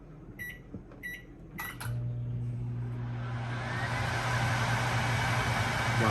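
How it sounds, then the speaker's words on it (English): A GE JVM3162DJ1BB over-the-range microwave oven runs empty: a few beeps and a door or button clunk, then a steady low hum with a loud fan whoosh building and continuing. "Wow, that's a loud fan too."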